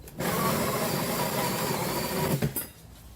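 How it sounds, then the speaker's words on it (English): A power drill boring a 4-inch hole for a drain pipe beside a foundation whirs steadily for about two and a half seconds, close and moderately loud, then winds down and stops. "So we're going to drill another 4-inch hole here."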